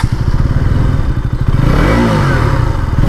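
A 2025 KTM Duke 200 single-cylinder motorcycle engine starting close by, breaking into a loud, rapid, throbbing idle that carries on steadily to the end.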